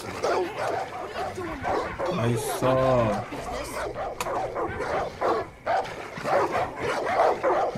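Dogs fight in Far Cry 5, with yelping barks and whimpers that rise and fall, mixed with game sounds and speech throughout.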